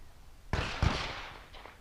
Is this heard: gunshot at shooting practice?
yes